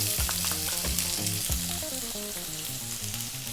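Onion dropped into hot oil with curry leaves for a potato mushroom curry, sizzling loudly and evenly up close, with a few bumps and clinks early on, then a steady fry with no voices.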